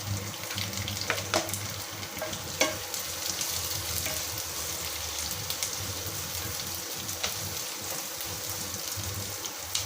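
Three halved green chillies sauté with onions in a hot pan for onion biryani. They give a continuous crackling sizzle with occasional stirring knocks and a soft watery hiss underneath.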